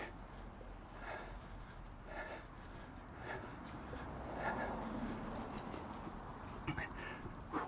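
A dog whimpers and yips in a series of soft, short cries on a walk through Loose Park in Kansas City, Missouri, fairly faint against outdoor background noise with footsteps.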